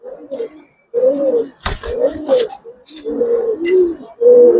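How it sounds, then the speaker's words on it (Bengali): Close-up cooing from silver and coloured Giribaz pigeons: a run of throaty, rolling coo phrases with short gaps between them and a sharp click partway through. "পাল্লা লাইনের কবুতর ভাই।"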